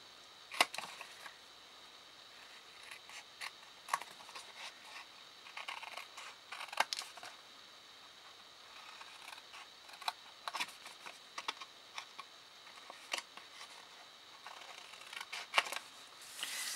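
Craft snips clip triangles out of patterned paper for a prism pillow gift box, making a series of sharp, quiet snipping clicks spaced irregularly through a soft, quiet room.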